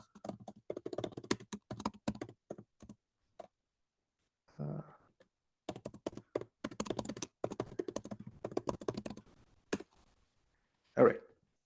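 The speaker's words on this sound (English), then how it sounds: "let me type it here" Keystrokes on a computer keyboard come in fast irregular bursts, close and fairly quiet, with short pauses between runs and a louder thump near the end.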